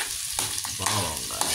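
Onions and garlic sizzling in a pan, short steady frying hiss broken by a few stirring scrapes, close and fairly quiet.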